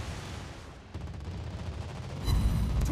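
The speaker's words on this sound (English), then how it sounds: "Anti-aircraft gun on full alert." Rapid anti-aircraft gunfire from a tier 8 Wichita cruiser in World of Warships Blitz, a dense continuous rattle of shots with heavier bursts building toward the end.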